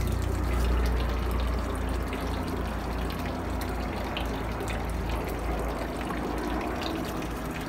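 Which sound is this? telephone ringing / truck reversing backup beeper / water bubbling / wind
water bubbling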